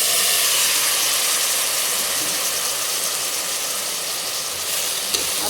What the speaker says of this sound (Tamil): நம்ம ரைஸை போட்டு நல்லா கிளறி விட்டுக்கிட்டேன்